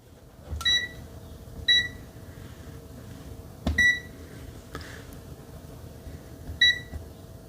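An ANENG 623 multimeter in continuity mode gives four short, loud, clear electronic beeps at uneven intervals, with a few faint clicks from the probes between them over a low steady background hum.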